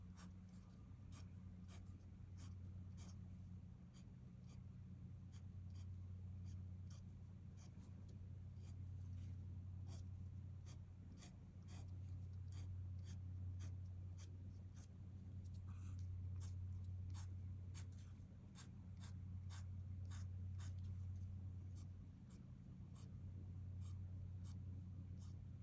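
Pen strokes scratching and tapping on paper while drawing a Zentangle pattern, a steady run of short close strokes over a low constant hum of background noise throughout.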